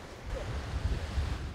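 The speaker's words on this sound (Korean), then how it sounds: "언제 이렇게 파도 소리를 노래처럼 들었던 적이 있었나." Ocean waves wash onto the shore at Haeundae beach in Busan, a low, steady rumble mixed with wind noise and no voices.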